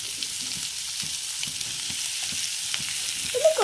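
Onions, green chillies and ginger frying in a pan, a soft, steady hiss with faint scattered pops and a brief clatter at the end, close by and without talking.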